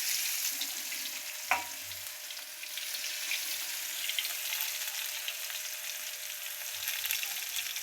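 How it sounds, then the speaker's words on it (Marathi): Garlic tossed into hot oil with cumin and mustard seeds sizzles in a steady, even fry, with one brief clatter near the start and no voices. "लसूण टाकते बघा."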